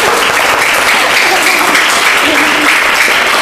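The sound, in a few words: applause at a school event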